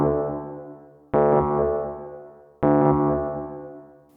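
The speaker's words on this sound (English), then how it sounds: "And then I can send the output of the delay into the reverb." Electric piano chords pass through a stereo delay feeding a reverb, each repeat striking clearly then fading into a longer, washier tail that overlaps the next, at a steady interval.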